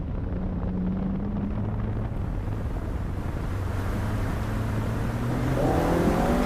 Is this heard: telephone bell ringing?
no